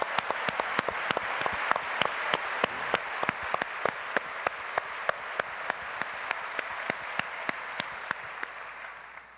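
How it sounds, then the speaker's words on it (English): The audience at the 36th annual American Academy of Physician Assistants conference general session claps for the 2008 Publishing Award winners. A steady roomful of applause is marked by sharp, evenly spaced near claps, and no one speaks over it. "Please join us in a round of applause for AAPA's 2008 Publishing Award"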